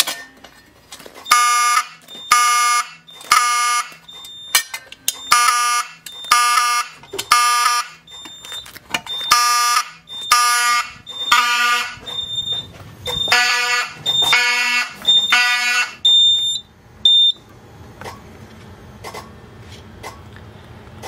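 Fire alarm horn, an electronic 4903, sounds after a BG-6 pull station is pulled, blaring loud repeated shrill pulses in a steady temporal pattern, close by, with faint coughing and handling noise before it cuts off near the end.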